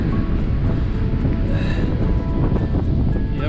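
Strong wind blows steadily outdoors in Australian bush country, a loud, continuous roar and buffeting across the microphone with no talking.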